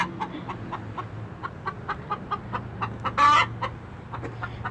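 Chickens in a coop cluck in a quick, steady rhythm of short repeated calls, with one louder squawk partway through over a low background hum.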